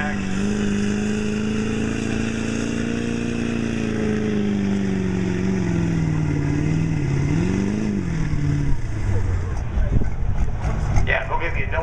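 Chevrolet Duramax truck at a county fair truck pull, its engine droning and laboring loudly with shifting pitch before rising into rough revving, while an announcer talks over it.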